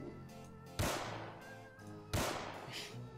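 Two sharp pistol shots fired in a Roblox game, each a loud, sudden crack with a short ringing tail, spaced over a second apart against a quiet game backdrop.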